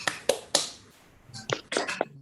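Children in a classroom perform a rhythmic PPK clapping routine, a few sharp claps in a short pattern, a pause, then another quick cluster of claps, close and crisp.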